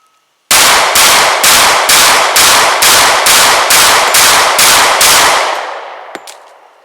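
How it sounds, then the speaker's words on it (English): Rapid fire from a Para-Ordnance P-12 pistol outdoors: eleven loud, sharp shots in quick, even succession, each with a ringing tail, ending in a decaying echo and a faint metallic clink. "Alrighty, one more time. Rapid fire."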